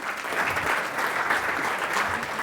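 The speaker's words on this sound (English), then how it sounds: "Round of applause for Felipe." Audience applause welcoming a guest onto a stage for an interview, a steady, full burst of many people clapping that holds evenly across the whole clip.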